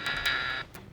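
A radio-play doorbell sound effect rings out as a bright electric buzz lasting about half a second, followed by a short second tap, close and clear with no talk.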